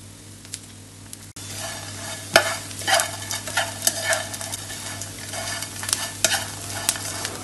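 Dried fish stir-fried in a pan, sizzling steadily with repeated scraping and tossing strokes that rise and fall in loud bursts, close by and with no talk.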